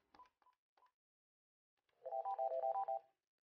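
An NEC office phone keypad gives three short separate tones, then a rapid burst of dialing tones about a second long, clean and close.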